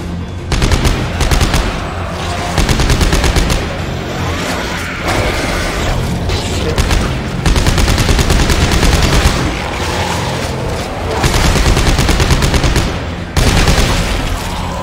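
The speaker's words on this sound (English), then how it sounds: "They're shooting at me." Enemies fire guns in the Dead Space video game played in VR, producing dense, continuous rapid automatic gunfire with booming impacts that runs loudly and almost without pause throughout.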